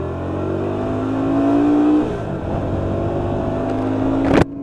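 A Hyosung GV125 motorcycle with a five-speed gearbox pulls out into traffic, its engine droning steadily and rising in pitch through a gear before easing off, then climbing again, ending in a brief louder burst.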